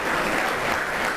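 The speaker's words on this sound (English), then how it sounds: "give all who participated in that wonderful unveiling a big round of applause" A dense, steady round of audience applause fills a retirement and Wall of Fame reception, loud and continuous with no voices over it.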